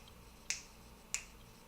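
Two crisp finger snaps, spaced a little over half a second apart, imitate a heartbeat; quiet and close with no talking.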